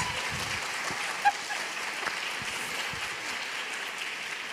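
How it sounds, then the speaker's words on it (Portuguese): An audience at a talk show applauds, a steady dense wash of clapping that runs the whole time, moderately loud and even in level. "Loucura. Aplausos!"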